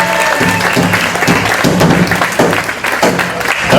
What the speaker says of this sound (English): so could we give him a round of applause?